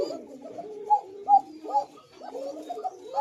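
Caged pigeons, a male and female pair, give soft repeated coos in a steady rhythmic series, close by with no talk over them.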